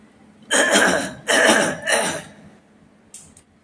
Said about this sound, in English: Very bad cough.